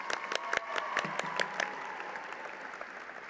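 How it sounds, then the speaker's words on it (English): A university commencement crowd gives a round of applause for a Master of Science graduate in cell biology and technology, with sharp individual claps up front merging into a softer, steady patter. "One more huge round of applause for Gilda, the Master of Science in Cell Biology and Technology graduate."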